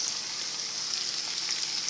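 Onion hits hot oil with a bright, dense sizzle that hisses continuously and evenly, close and moderately loud, with nothing else audible.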